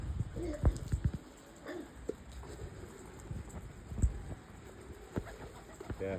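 Pigeons coo softly in the background amid scattered knocks and shuffling, with a person speaking quietly now and then.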